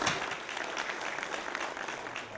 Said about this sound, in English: I'd like you to join me for a round of applause for the superb organization that I've seen so far.